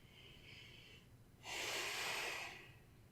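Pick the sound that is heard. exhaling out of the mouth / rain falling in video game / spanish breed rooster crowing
exhaling out of the mouth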